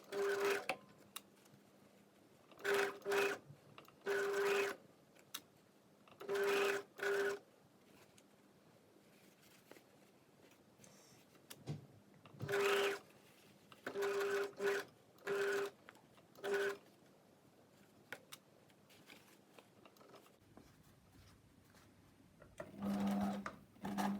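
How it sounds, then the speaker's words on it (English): Sewing machine stitching fabric for a strapless bodice: short, quiet runs of rapid mechanical stitching, each lasting about a second, repeated with pauses, in a calm room with no talk. "I'm going to stitch along, and just take care that there's no tucking underneath or any fabric catching"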